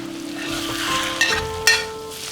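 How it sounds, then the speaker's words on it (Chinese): Diced lean pork stirred and frying in a hot wok, a loud steady sizzle with a couple of sharp scraping stirs near the end, close and without talk. "香味给它炒出来，下我们切好的瘦肉丁儿"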